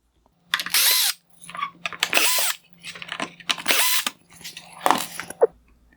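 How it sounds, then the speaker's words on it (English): A power tool backs screws out of a 2018-2019 Hyundai Sonata OEM LED headlight, the turn signal and corner bulb screws, in four close, loud whirring bursts with brief ratcheting pauses between them. "I will remove the screws for the turn signal and corner light bulbs."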